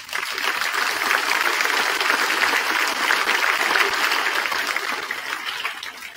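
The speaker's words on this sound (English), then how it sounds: "Give them a round of applause." Audience at a middle school music concert applauds for a small jazz combo, a continuous dense clapping wash that holds steady and tapers slightly at the end.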